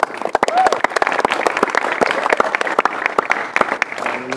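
Loud, close applause from a congregation at a Good Friday church service, sharp individual claps standing out over a dense roar, with voices and cheering underneath.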